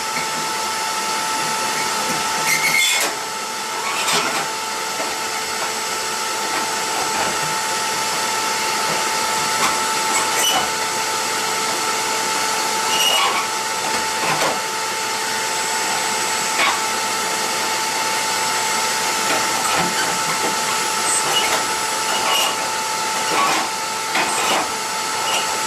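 A vacuum cleaner runs steadily and close by while a Bixby stove is cleaned, its continuous whining drone broken by faint scrapes and knocks.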